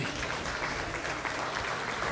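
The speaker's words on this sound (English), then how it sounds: "let's go ahead and give these kids a nice big hand of applause" An audience applauds steadily throughout at a junior livestock swine show, cheering young exhibitors during the champion purebred barrow drive. The clapping is dense and continuous, with no one speaking.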